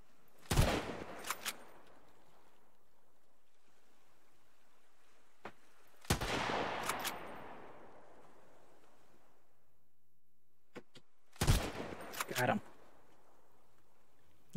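Three separate bursts of gunfire in the video game Sunkenland, each a short loud volley with a trailing echo, spaced several seconds apart over near silence.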